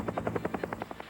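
A National Guard helicopter hovers while sandbags are unloaded during the 1993 Des Moines flood, its rotor giving a fast, even thumping pulse at moderate distance, alone with no talk.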